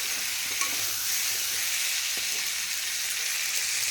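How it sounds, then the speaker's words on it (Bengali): Pointed gourd, prawns, tomato and potato fry in plenty of mustard oil with a steady, close hissing sizzle and occasional stirring clinks, with no talking. "পটল দিয়ে, চিংড়ি দিয়ে, টমেটো দিয়ে, আলু দিয়ে, বেশি করে একটু সর্ষের তেল দিয়ে একবারে শর্টকাটে ভাজা বসিয়ে দিয়েছি"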